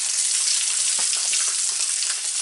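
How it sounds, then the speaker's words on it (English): Beef short ribs sear in a smoking-hot pan with olive oil, giving a loud, continuous sizzle and crackle that runs unbroken throughout. "And you're just going to pan sear on all sides."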